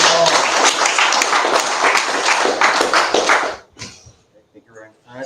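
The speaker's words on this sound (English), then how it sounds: "Round of applause." A round of applause from attendees at a recovery meeting, dense steady clapping for about three and a half seconds that stops abruptly, followed by a few quiet voices.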